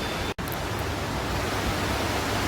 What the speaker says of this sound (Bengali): এত বৃষ্টি হচ্ছে তোমরা নিশ্চয়ই শুনতে পাচ্ছ শুধু বৃষ্টি